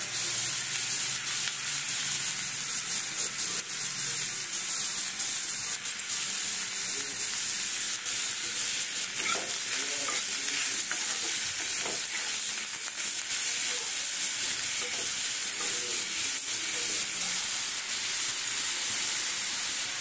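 Cauliflower sizzles in hot oil in a pan, a loud steady hiss with intermittent scraping and clattering as it is stirred throughout.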